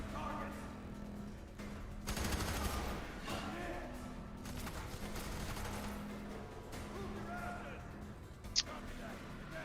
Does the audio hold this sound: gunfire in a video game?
yes